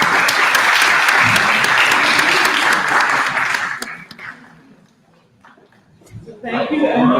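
A conference audience applauds a panel presentation with loud, dense clapping that fades out after a few seconds, followed by speech.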